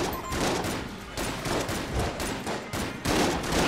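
Rapid, overlapping shotgun blasts pound without a break in the video game Enter the Gungeon, a dense, loud barrage with brief dips between volleys.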